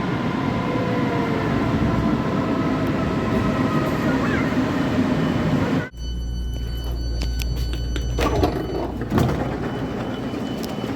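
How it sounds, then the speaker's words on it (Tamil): A train in Germany rumbles loudly with squealing tones as it rolls into a station, then the sound shifts abruptly to quieter clatter and thuds on the platform. "கரெக்டாக ட்ரெயின் வந்துடுச்சு இந்த ட்ரெயினில் ஏறி நெக்ஸ்ட் ஸ்டேஷனில் இறங்கணும்"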